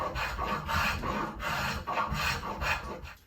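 A hand rasp shapes a shallow 45-degree bevel along the tapered side of a wooden chair leg in steady, rhythmic back-and-forth strokes, close and alone, about six passes.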